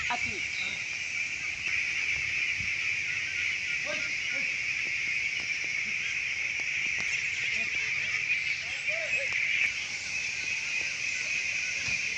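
A farm flock of about 300 ducks keeps up a constant chorus of nasal quacking and honking, the calls blending into a steady wash nearby, with faint voices talking underneath.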